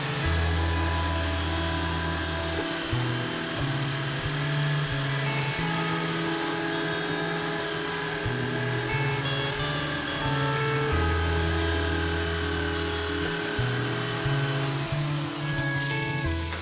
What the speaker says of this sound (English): grabbed myself some wire brush attachments for the drill